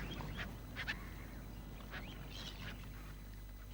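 Birds on the tide line of a Forth estuary fishing village give scattered honking and quacking calls, some distant and faint, over a steady low wind-like rumble.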